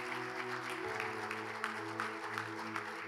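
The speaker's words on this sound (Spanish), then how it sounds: "Denle un fuerte aplauso al Señor" Congregation clapping in a church service, steady applause over a sustained organ or keyboard chord that shifts partway through, with a voice faintly present.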